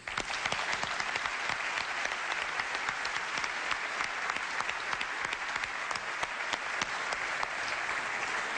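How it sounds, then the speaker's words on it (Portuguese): Audience at a wine awards gala clapping for the national jury, a dense, even round of applause sustained throughout from a large crowd in a hall. "O nosso aplauso para o Júri Nacional dos Prémios Verde Ouro."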